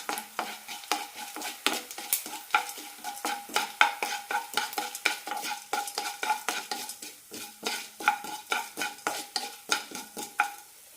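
Cumin and coriander seeds stir-fried in a pan for a horse gram curry, a utensil scraping and clinking in a steady rapid rhythm over light crackling sizzle, close and alone with no voices.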